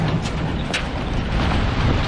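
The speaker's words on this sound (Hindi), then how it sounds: "और यहाँ हवा चल रही है अंधी अंधी तेज़ हवा।" Strong, gusty mountain wind near a tunnel outside Manali in December roars in a dense, rumbling rush against the microphone, steady and close with no voices.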